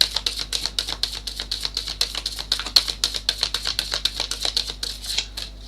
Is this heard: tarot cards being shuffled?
yes